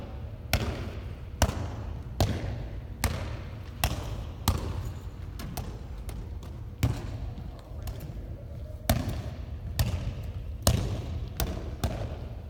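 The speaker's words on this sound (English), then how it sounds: "And now they're gonna try to keep it in the air by hitting it." Students in an adaptive PE class hit a ball again and again to keep it in the air, giving a run of sharp slaps and thumps at a roughly regular rhythm, about one a second, in a reverberant gym.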